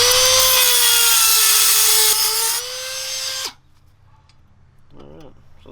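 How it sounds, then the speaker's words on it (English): A power tool screams at high speed, close and loud, while it cuts the threaded part of a brake wing nut on a mini bike, winds down and stops, then someone speaks briefly. "So what I'm gonna do is cut the threaded part."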